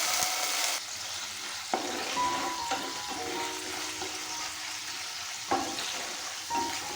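Ginger, cumin and green chilli paste sizzle steadily in onion-flavoured oil for a Bengali raisin katla fish curry, with a close continuous crackle and occasional stirring knocks.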